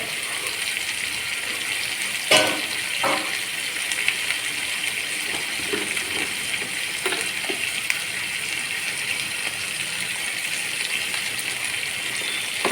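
Onion frying in a pan with salt and turmeric for a South Indian buttermilk curry gives a steady, close, even sizzle throughout, with a few brief clinks of a utensil against the pan.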